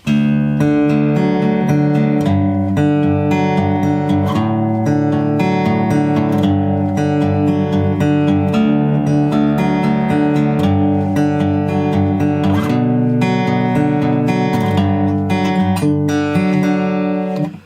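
An electric guitar plays the chorus of a song as a driving riff of sustained power chords with steady rhythmic strumming, loud and continuous with no voices.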